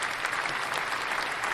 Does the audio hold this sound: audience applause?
yes